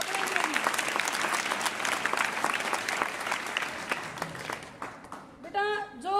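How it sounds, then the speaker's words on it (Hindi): A classroom of schoolchildren claps for their classmates after a question about Ravidas Jayanti, a dense, steady burst of applause that fades near the end as a voice starts speaking over it. "इन बच्चों के लिए तालियां बजाओ अपने"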